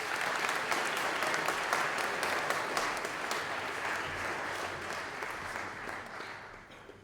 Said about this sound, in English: Nice round of applause for these two, please.